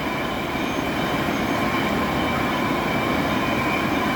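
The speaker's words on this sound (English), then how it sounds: "So the winch moves on to the next guy." A dam winch at Tribes Hill, New York moves along its rail to the next gate, making a loud, continuous rumbling, grinding drone with a steady tonal whine on top.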